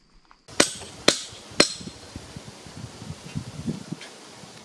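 Climbing pegs are driven into the trunk of a tall tree while harvesting a giant honeybee nest. Three sharp, evenly spaced hammer blows ring out close by, followed by soft rustling and scraping.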